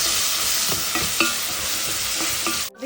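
Beetroot sautéing in hot oil in a pan for a beetroot gravy, a steady loud sizzle broken by several sharp scraping stirs of a spoon, no talking.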